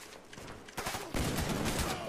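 Machine gun fire from the M60 in the video game Black Ops, heard as a fairly faint, dense burst that grows louder partway through.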